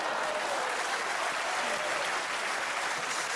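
A comedy club audience applauds throughout, a dense and even wash of clapping from a crowd that holds steady for the whole stretch without pausing, with no speech on top.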